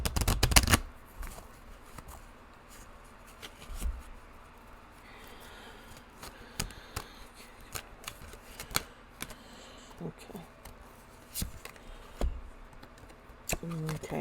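A Dark Mirror oracle deck being shuffled, with soft papery riffles and taps coming in scattered bursts, close and fairly quiet against a low room hum.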